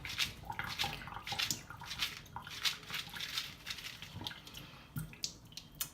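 Wet lentil sprouts are shaken in a container, giving repeated quick sloshing and rattling bursts in an irregular rhythm, fairly close and moderately loud.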